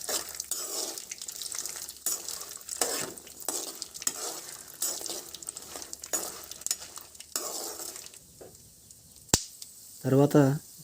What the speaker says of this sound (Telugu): ఎండుమిర్చి వేగిన తర్వాత పల్లీలు వేసుకొని వేయించుకోవాలి